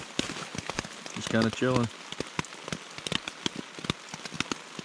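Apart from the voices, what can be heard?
pouring rain outside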